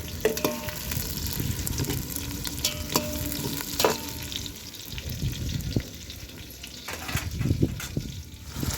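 Tomatoes sizzle and fry in a pan while a spoon scrapes and stirs them in repeated close clatters, with a quiet steady hiss underneath and no talking.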